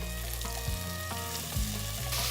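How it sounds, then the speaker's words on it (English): Chopped onions hit a hot pan of oil with mustard seeds and ginger, frying with a loud bright sizzle, broken by a few low clunks as they are stirred in. "In go our chopped onions."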